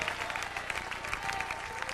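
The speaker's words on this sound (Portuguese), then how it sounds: "Aplauda ao Senhor com alegria" A church congregation applauds the Lord with steady, dense clapping that stays even and fairly loud for about two seconds, with no break.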